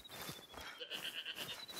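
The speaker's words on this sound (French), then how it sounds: "Non, non, c'est une chèvre." A goat in the hunting video game theHunter: Call of the Wild gives a clear, wavering bleat midway through, heard alone against a bed of ambient game noise.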